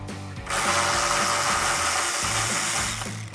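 A power driver with a 10mm socket spins out a headlight bolt on a 2005-2009 Mustang, a steady loud whirring motor with a pulsing ratchet-like beat, starting abruptly and running for about three seconds.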